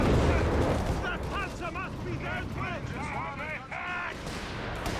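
Machine gun and mortar fire in Company of Heroes 3, a dense battle din of booming blasts and rattling shots. A voice talks over it the whole time.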